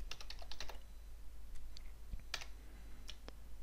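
Keys tapped on a computer keyboard while entering text in an Excel 2021 spreadsheet: a quick burst of clicks, then a few scattered keystrokes, close and moderately quiet over a low steady hum.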